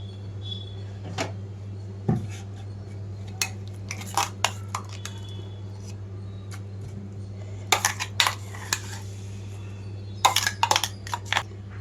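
A spoon clinks and scrapes against a pan while tempering is stirred into a red chilli and sesame chutney, scattered sharp metallic taps over a steady low hum, close and moderate in volume.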